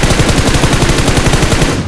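Rapid, continuous automatic gunfire in PUBG Mobile rattling loudly for the whole stretch, dense and unbroken, with no voices over it.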